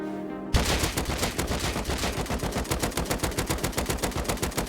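Rapid automatic gunfire in the survival video game Rust, shot from standing and crouched positions; after a brief quiet start, a steady, loud stream of evenly spaced shots runs to the end with no talking.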